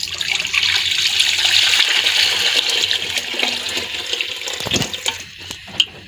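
Thick goat trotter curry sauce pours into a cooking pot, a steady close liquid splashing and gurgling that runs for several seconds before tapering off with a few final drips and clinks.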